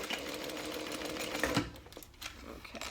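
Sewing machine stitching close to a metal D-ring while attaching it to a handbag made from a modified zipper pouch; a steady, fairly loud mechanical whir runs throughout, with a brief louder bump partway through.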